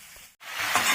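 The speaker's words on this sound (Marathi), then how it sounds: "आता यात टाकूया लाल माठाची भाजी।" Red amaranth leaves drop into a hot pan and set off a loud, broad sizzle that swells after a brief silent gap, steady and close with no voices.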